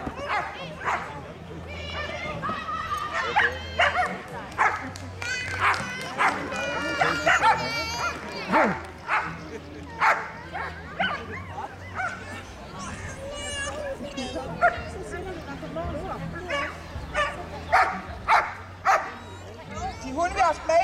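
Dogs at an agility demonstration in Havndal bark and yip in scattered bursts amid crowd chatter and someone talking over a loudspeaker.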